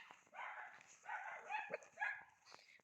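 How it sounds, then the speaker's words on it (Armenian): A dog barking in short, repeated bursts of barks and yips, close and fairly loud, where a person feeds abandoned animals and the dogs come out to greet her. "նայք ոնց է հաչում"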